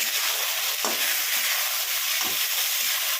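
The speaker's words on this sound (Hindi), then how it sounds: "अब हम गैस का फ्लेम को हाई कर लेंगे और बैगन को हम ऐसे फ्राई करेंगे, ढकेंगे नहीं।" Eggplant frying in a pan on a high gas flame, a loud steady sizzle throughout with a few soft stirring knocks, no talking.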